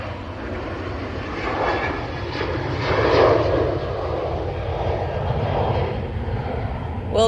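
A Ryanair airliner passes overhead with a steady, broad jet roar that swells gently and fades, heard outdoors at a distance, with voices talking faintly over it.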